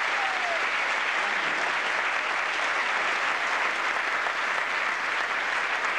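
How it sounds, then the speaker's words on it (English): Audience at a drum clinic in Sweden bursting into loud, sustained applause, a dense wash of clapping that holds steady for several seconds without a break. "Boys and girls, give it up for Johan."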